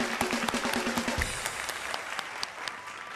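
Studio audience clapping for a guest named Ramya on a Malayalam TV show, dense continuous applause with sharp individual claps standing out, fairly loud and sustained.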